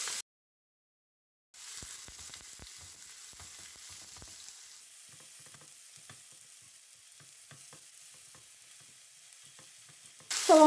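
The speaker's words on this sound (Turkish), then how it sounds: "Soğanlarım yumuşayıncaya kadar 2-3 dakika pişireceğim." Onions frying in a few spoonfuls of oil in a pan: after a brief silence comes a soft, steady sizzle with scattered small pops, which swells louder at the very end.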